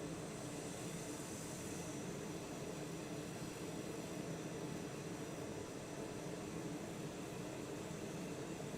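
Steady, even engine drone of a TBM 930 turboprop idling before takeoff at Linden Airport in Microsoft Flight Simulator, a constant broadband hum with no talk over it.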